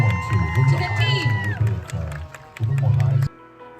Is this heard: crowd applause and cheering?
yes